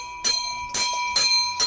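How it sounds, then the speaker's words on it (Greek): A church bell in a Greek mountain village is struck by hand, giving four bright, resonant clangs at a steady pace, each with a ringing metallic tail, close and loud with no talking. "Το έθιμο επιβάλλει επισκέπτες να χτυπήσει την καμπάνα της εκκλησίας"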